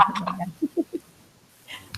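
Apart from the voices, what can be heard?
neighbor's chickens clucking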